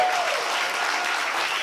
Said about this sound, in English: A round of applause for Mr. J.